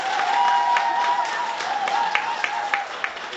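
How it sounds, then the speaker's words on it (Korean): Audience applause welcoming a lecturer at a Korean political party public lecture in Ulsan, a room of hands clapping steadily under a sustained tone, with scattered sharper claps near the end. "다시 한번 힘찬 박수로 최선을 모시겠습니다."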